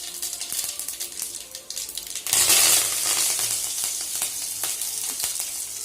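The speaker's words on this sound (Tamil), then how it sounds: "இப்போ அடுப்பை சிம்மில் வச்சுட்டு கொஞ்சமாக கடுகு, கொஞ்சமாக ஜீரகம்" Mustard seeds and cumin splutter in hot oil on a low flame for pepper rasam, starting as a quiet crackle before a sudden loud burst of popping and sizzling that then settles into steady, close crackling with no talk.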